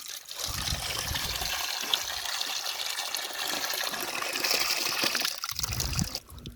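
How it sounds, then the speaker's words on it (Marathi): Bangda fish being washed under water, a continuous close splashing and trickling rush with gushing bursts that rise and fall, then a brief pause before the water starts again near the end. "मासे धुवून घ्या आपण."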